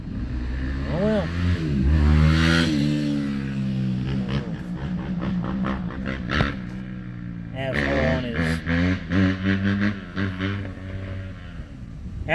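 A dirt bike engine revs nearby in a neighbourhood, rising and falling through repeated throttle blips with a buzzy, harmonic whine, and a voice speaks in between.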